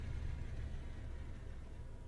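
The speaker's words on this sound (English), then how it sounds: "I think that's the compressor kicking in. Very noisy" An air compressor on a train in Train Sim World 2's Isle of Wight route runs as a loud, steady low rumble with a broad noisy hiss. It holds evenly for the whole stretch with no talking.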